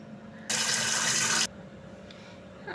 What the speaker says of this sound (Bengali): এখন ভালো করে ধুয়ে নিব পানি দিয়ে।